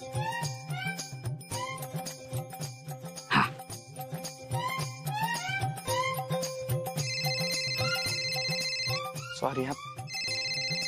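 A phone rings during a call to a brother, a repeating electronic ringtone chiming steadily over ongoing conversation and background sound.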